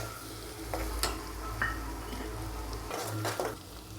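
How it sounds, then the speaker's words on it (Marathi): Ground masala paste sautéed in oil in a pan for egg dum biryani, a soft continuous sizzle close by with several metal spoon clinks and scrapes against the pan. "छानपैकी ह्याला परतून घेऊया आता।"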